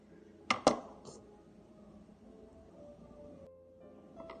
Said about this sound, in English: The chopping board is moving.